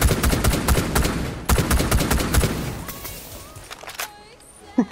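Rapid automatic gunfire strikes a shield in Rainbow Six Siege, with dense loud bursts during the first half, then scattered, quieter shots and a couple of sharp final hits.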